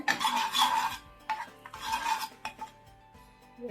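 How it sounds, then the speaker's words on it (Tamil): Home-ground masala powder with pepper and cumin scraped and stirred in hot oil in a pan, rasping spoon strokes in two long bursts with shorter scrapes between, close and fairly loud with no talk. "எண்ணெயில் இந்த மசாலா வாசனை போக வரைக்கும் வதக்கிக்கோங்க."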